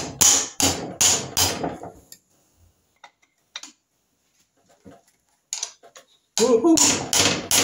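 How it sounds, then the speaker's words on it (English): Mallet pounding on a tight cylinder barrel of a Norton Commando motorcycle engine: sharp, close, loud blows in a rapid run, then a quiet pause with faint clinks, then another run of strikes. A brief excited shout is heard. "Should be using the soft end of the mallet, but they're so tight."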